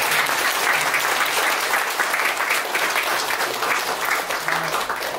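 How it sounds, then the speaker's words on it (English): Steady applause from an audience for panel members at a Heart Mountain 70th anniversary event, dense continuous clapping that carries on for several seconds at an even, sustained level. "Let's give them a round of applause."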